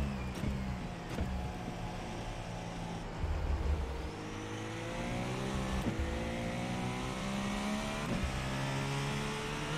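An Acura GTP race car engine in the iRacing video game drones and revs continuously, pitch climbing and dropping through gear changes, fairly close and steady with no talking.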